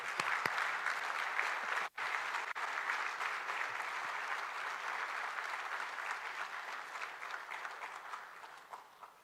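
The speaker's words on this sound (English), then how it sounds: "And we can give him a round of applause, too." Sustained applause from a gala audience greeting the arriving Prime Minister of Jamaica, a dense wash of clapping from many hands at moderate distance, with one sharp knock near the start, slowly thinning toward the end.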